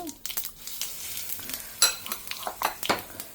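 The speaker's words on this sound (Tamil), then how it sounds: "கடுகு உளுத்தம் பருப்பு தாளிச்சுன்னு இருக்கேன்" Mustard seeds and lentils crackle and sizzle in hot oil with sharp popping bursts and occasional stirring scrapes, close up.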